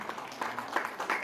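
An audience at a women's society ceremony honouring newborn girls keeps up soft, steady applause, with faint scattered claps pulsing through a short stretch.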